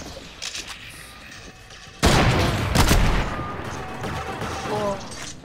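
Gunfire from a Fortnite creative battle bursts in suddenly and loudly after a quiet stretch, a rapid crackling volley with sharp impacts trailing off into scattered shots.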